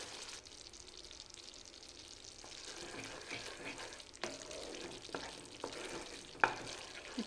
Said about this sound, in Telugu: ఇలాగే 1 నిమిషం వదిలిపెడుతూ 1 నిమిషం కలుపుతూ ఒక 7-8 సార్లుగా అలానే చేసుకోవాలి.